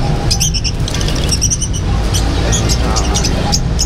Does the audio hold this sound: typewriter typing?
no